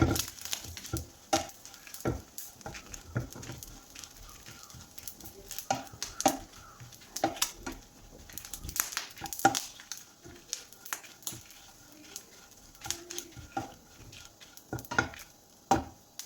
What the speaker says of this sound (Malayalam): പിന്നെ ഒരു തണ്ട് കറിവേപ്പില അതുകൂടി ഇട്ട് കൊടുത്തൊന്ന് നമുക്ക് ഇളക്കി കൊടുക്കാം.